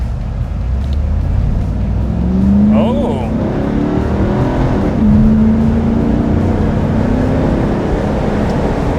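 A 1995 Chevrolet Camaro Z28 convertible pulls away from a stop sign, its V8 rising through two firm upshifts, loud and close from inside, with a brief voice exclaiming.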